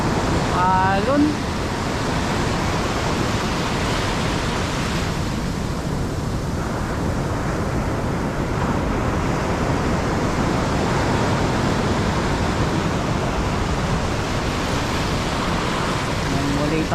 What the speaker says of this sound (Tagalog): Bumubulusok yung mga